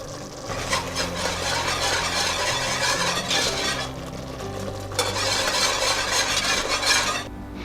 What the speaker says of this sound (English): continue to whisk this until the sauce comes together and it gets thick and glossy